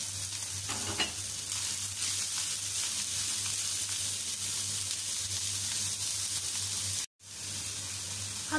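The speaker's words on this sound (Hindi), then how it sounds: "दो मिनट के बाद इसमें स्वीट कॉर्न, शिमला मिर्च और प्याज भी शामिल कर देंगे और 1 मिनट के लिए सौते करेंगे।" Sweet corn, capsicum and onion sauté in a hot pan for a bread-roll filling, a steady close sizzle and crackle that continues with little change and breaks off briefly near the end.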